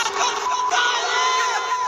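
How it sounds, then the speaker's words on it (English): A crowd in Minneapolis booing a speaker, a sustained mass of loud jeering and yelling voices without a break, close and dense throughout. "They just keep booing."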